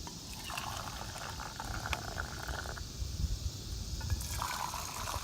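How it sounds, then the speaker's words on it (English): Hot water poured from a Kelly Kettle Scout camp kettle, a steady hissing, bubbling liquid flow running continuously at low volume. "and pour your hot water"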